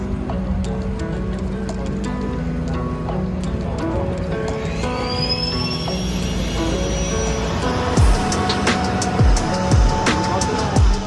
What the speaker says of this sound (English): there's the plane coming in now